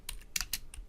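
Computer keyboard keys pressed in a quick series of about four crisp, close taps, with no voices, during setup of a Node.js app.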